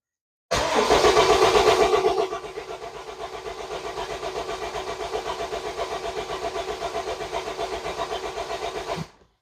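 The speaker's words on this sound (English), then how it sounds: "I'm gonna go in the vehicle and try to crank over while you're watching" A car engine with a misfire and idle-stalling fault cranks and catches, starting with a loud burst before settling into a steady, slightly uneven idle that runs until it cuts off near the end.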